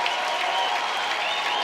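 Stadium crowd at an Arkansas at Alabama college softball game, roaring and applauding in a dense, continuous wash of cheering.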